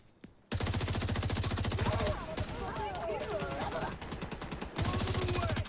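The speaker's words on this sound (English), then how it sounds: "you should get into cover before you start firing the gun" Rapid automatic gunfire in a video game comes in two dense bursts, one at the start and one near the end, with a voice talking over quieter game sounds in between.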